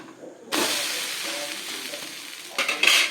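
Cabbage adai sizzles on a hot pan, a loud steady frying hiss that starts abruptly after a brief quiet moment, with a sharper burst of sizzle near the end as it is flipped.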